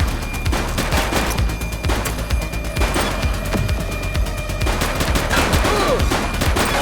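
Sustained volleys of gunfire in a police action game set in a city precinct, shots cracking repeatedly and densely throughout over a busy mix of game sound, with no talking.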